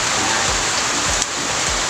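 Heavy rain pours down steadily outdoors in a garden where a potted Vitex parviflora bonsai is being pruned, a dense, loud, continuous hiss that fills the whole stretch with no voices over it.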